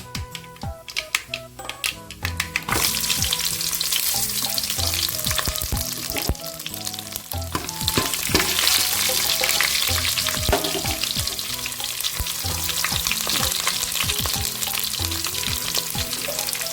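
Shallots and curry leaves sauté in hot oil in a pan, a loud continuous sizzle broken by sharp crackles and spits, with occasional stirring scrapes and clinks, and no talk.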